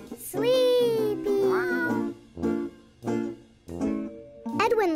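A cartoon cat gives a series of five drawn-out, tonal meows, loud and close, each separated by a short pause.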